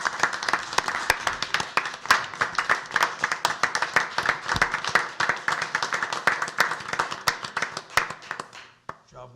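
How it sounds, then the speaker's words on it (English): A room of people at a city council meeting in Pryor Creek applauds an honoree, with sharp, close individual claps over a fuller clapping background that holds steady, then thins and stops near the end. "we would like to recognize you by a round of applause for your efforts."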